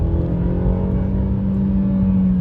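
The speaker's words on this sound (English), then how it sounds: "Now let's just do a little quick acceleration run here" A 2024 Mercedes-Benz E350 4Matic accelerates hard uphill from a stop, its engine droning in a loud, steady rising hum heard from inside the cabin, with no talk over it.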